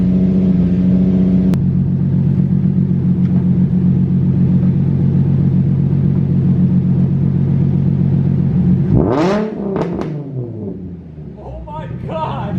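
A Nissan 350Z with a loud exhaust idles with a deep, steady rumble, then revs sharply several times in rising and falling bursts, close and loud.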